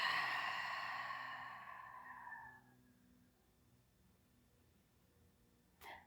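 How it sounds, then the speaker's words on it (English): A long, slow exhale through the mouth during a yoga core flow, a single breathy whoosh close to the listener that fades out over about two and a half seconds, followed by quiet and a brief faint rustle. "Observe a longer inhale through your nose and a longer exhale out of your mouth."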